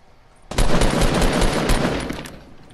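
A burst of rapid automatic gunfire in a video game rattles on loudly for about two seconds, then fades out.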